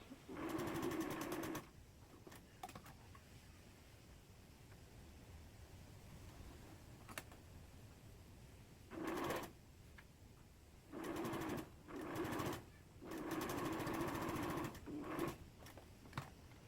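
A household sewing machine stitching fabric for a pouch with long basting stitches, running in several short bursts of rapid, even mechanical whirring separated by quiet pauses.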